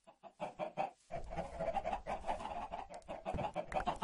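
Chickens in the video game Minecraft cluck in quick repeated bursts, close and fairly loud, alone without talk.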